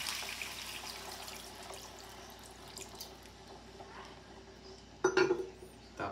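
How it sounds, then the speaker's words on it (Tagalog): Water from half a pitcher poured into a cooking pot of salmon sinigang with tomatoes and chili, a faint steady trickle that ends in a brief louder splash near the end. "Siyempre yung ating kalahating pitsil ng tubig."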